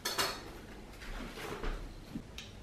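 Whole spices toasting and being stirred in a pan for a vindaloo, with a few sharp metallic clinks and scrapes of utensil on cookware, close and moderately loud, and no talking.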